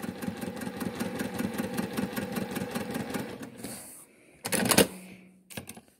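Juki 2010 sewing machine stitching quilt pinwheel seams, a steady rapid rhythmic chatter that halts, then a short whir and clunks as it trims the thread.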